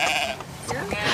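Sheep bleat briefly outdoors on a farm estate in summer, a short wavering call heard over people talking nearby.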